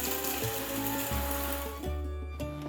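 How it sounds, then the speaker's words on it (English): A kitchen mixer grinder jar grinds roasted spices into fine masala powder with a continuous mechanical whir. A rhythmic, pulsing clatter repeats about every half second, and no one speaks. "transfer the roasted spices into a mixer jar and grind them to a nice fine powder"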